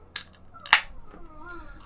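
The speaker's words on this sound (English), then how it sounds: "let's crack this thing open" Two sharp metallic clicks, the second louder with a brief hiss, as a beer can tab snaps open up close.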